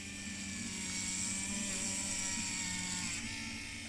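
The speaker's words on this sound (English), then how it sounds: "I'll be using my Tack Life, and just to give you a little sample of the polishing." A Tacklife polisher buffing primer on a Volvo 245 DL, a steady high-pitched electric whine with a faint rumble, fairly quiet and unbroken, easing off near the end.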